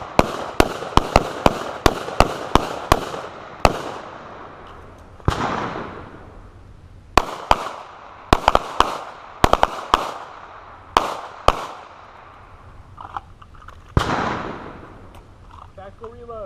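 Sharp carbine and pistol gunshots crack out in rapid bursts at an outdoor tactical shooting class, loud and close with pauses between strings, while an instructor calls out commands.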